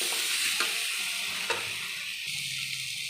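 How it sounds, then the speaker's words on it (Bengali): Spices, pumpkin, potato, drumstick stems and green chillies sizzle in hot oil while a spatula stirs them, with a steady frying hiss and a couple of sharp scrapes against the pan. "মশলাগুলো তেলের সঙ্গে ভালো করে 2-1 মিনিট কষিয়ে নেওয়ার পর"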